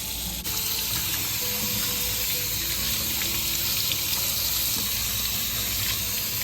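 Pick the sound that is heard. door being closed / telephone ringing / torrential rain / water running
water running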